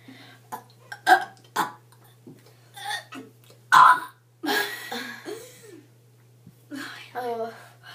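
Burps in a burping contest come as a string of short, croaky bursts, some loud and close, mixed with whispered voices and soft laughter in a quiet room.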